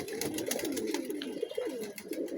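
Pigeons in their loft during bath time, with low, rolling coos repeating close by over faint splashing and rustling.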